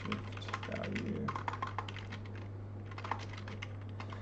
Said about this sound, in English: I'm also using this a new keyboard that's just a temporary keyboard that's not mechanical